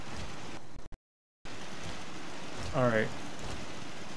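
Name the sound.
rain falling in a video game (Fallout 4)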